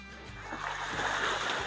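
Waves wash onto a beach beside the accommodation in Lakshadweep as a steady, moderately loud surf hiss that swells slightly toward the end, with no voices.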